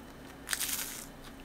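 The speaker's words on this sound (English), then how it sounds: "It's got a little ice crunch to it." A crunchy, icy chocolate snack from a Japanese treat box is bitten close to the mic, giving a short burst of crisp crunching and crackling that quickly fades back to quiet.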